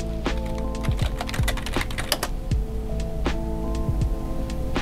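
Fingers type a search on a computer keyboard in quick, close bursts of clattering keystrokes over a steady background hum.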